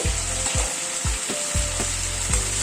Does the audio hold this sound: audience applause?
no